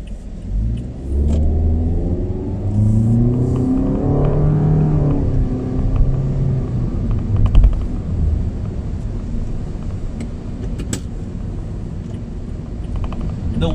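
A 2021 Toyota Vios G with a 1.5-liter dual VVT-i engine and CVT transmission, driving with a steady engine drone that swells as it accelerates, then settles into road rumble, heard from inside the cabin.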